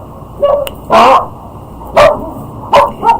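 Several short dog barks come in irregular bursts, moderately loud and somewhat distant, with quiet gaps between them and no talking.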